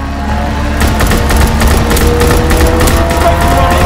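A plane's strafing run in the video game Call of Duty WW2 sends a loud, rapid stream of gunfire bursts after a brief lead-in, rattling continuously over a rumbling engine-like background.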